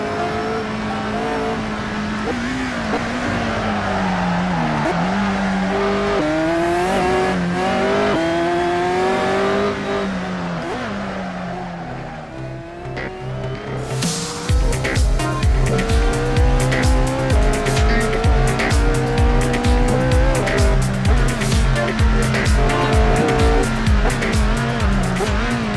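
A supercar is driven hard around the Nürburgring, its engine climbing through rising revs with gear changes, tires squealing, then a steady rapid pulsing roar in the second half, loud and close with no talk.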